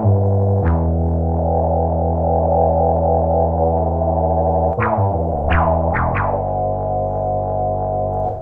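Moog Minitaur analog bass synth with its LFO routed to the filter, producing a loud, sustained saturated tone whose pitch shifts in steps with sharp filter sweeps toward the end.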